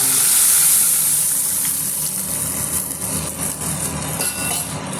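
Steady crackling sizzle of dried chilies frying in hot oil for rasam, close and continuous, with small pops scattered through and no talking.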